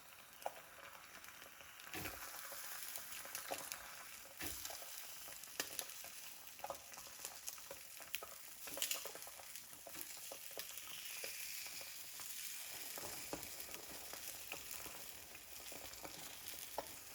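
A ham and tomato omelette fries in a pan, giving a steady, close sizzle with light crackling and small pops. It goes on unbroken, with no one talking.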